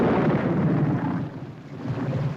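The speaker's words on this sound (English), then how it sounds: "This is a storm indeed." Thunder from a storm rumbles loud and continuous, a deep rolling roar that swells and eases slightly, with no voices over it.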